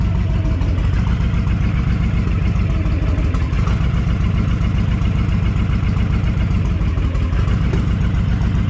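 A Honda VTX 1300 motorcycle engine runs steadily in gear, a loud, close, continuous low rumble with a throbbing pulse that holds level throughout, and no talking over it.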